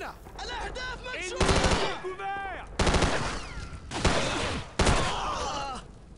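Gunfire in the Call of Duty 4: Modern Warfare video game, with several loud bursts of shots in quick succession over a busy battle soundscape, and a voice shouting briefly between the volleys.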